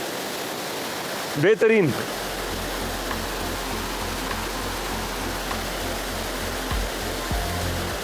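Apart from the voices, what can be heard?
small waterfall on a stream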